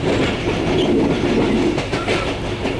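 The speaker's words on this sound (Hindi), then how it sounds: "एक खुशगवार सी हवा है ट्रेन के सफ़र में, और एक कुछ अपना मज़ा भी होता है।" A passenger train runs on rails through Pakistan, with a steady rumble and rhythmic clickety-clack. It is heard close from inside the carriage as a continuous loud wash of noise, with no voices.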